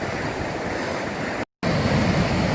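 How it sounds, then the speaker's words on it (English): A cascade of waterfalls in Buckden Gill roars as a steady, dense wash of falling water, close and loud, broken once by a split-second gap of silence. "a really nice cascade of waterfalls now"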